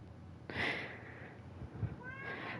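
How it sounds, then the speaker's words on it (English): A house cat meows twice nearby, a short mid-pitched call followed by a second drawn-out one, fairly quiet over low room hum. "Sorry if you hear the cat."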